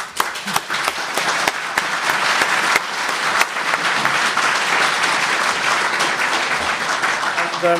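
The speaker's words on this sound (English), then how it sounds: "Just an applause for the panel, please" An audience at a cybersecurity conference session applauds the panel, with loud sustained clapping and a few sharp individual claps near the front, continuing throughout.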